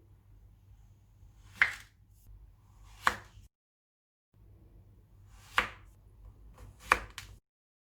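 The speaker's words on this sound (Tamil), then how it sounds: "இப்போ சின்ன சின்னதாக கட் பண்ணி எடுத்துக்கணும்." A knife cuts set wheat-flour burfi, a syrup-free Diwali sweet, into small pieces: four sharp, separate chopping strikes with pauses between them over a low steady hum, with no talking.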